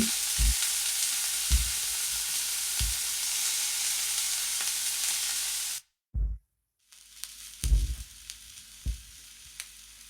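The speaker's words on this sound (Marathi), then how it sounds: "त्यासाठी हा मंद ते मिडियम गॅसवर भाजून घ्यायचा गुलाबी रंग येईपर्यंत" Onion roasting in a pan over low-to-medium gas gives a soft, continuous sizzle with occasional low knocks of stirring, briefly cutting out midway before resuming with a few more stirs.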